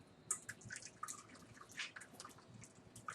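Coconut milk pours through a t-shirt cloth strainer as soft, irregular drips and trickles at close range, fairly quiet, with no talking.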